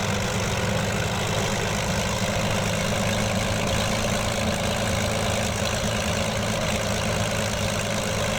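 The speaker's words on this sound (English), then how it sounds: "We'll get the engine shut down as quickly as we can." P-40B Tomahawk engine idling in Microsoft Flight Simulator, around 1000 RPM on the ground, makes a loud, continuous, rough low drone with steady vibration and no voices over it.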